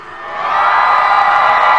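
A large audience at a Thai variety show cheers and whoops loudly, the roar swelling over the first half-second and then holding steady as a dense, continuous crowd noise.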